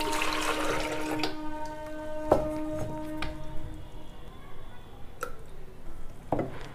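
Water is tipped out of clay pots in a kitchen where curd is being set, giving close splashes and gurgles with a few sharp knocks of earthenware against a hard surface.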